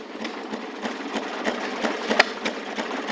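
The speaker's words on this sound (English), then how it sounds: "gas-operated washing machine I've ever seen." A gasoline-powered Maytag washing machine engine runs steadily, giving off a fast, even clatter of repeated mechanical beats at moderate loudness with no talking.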